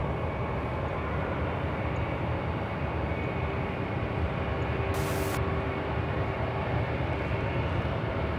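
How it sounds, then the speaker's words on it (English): American Airlines Airbus A321 arriving at Charlotte Douglas airport, a steady distant jet roar holding level and even throughout, with no talk. "So this A321 is arriving from Nashville, Tennessee, American Airlines Flight 871."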